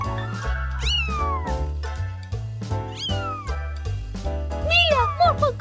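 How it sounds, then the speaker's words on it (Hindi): Kittens in an animated cartoon give several high, gliding meows one after another over a bouncy, rhythmic music backing. "मॉर्फल को बिल्ली के बच्चे मिले"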